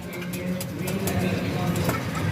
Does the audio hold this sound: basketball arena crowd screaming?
no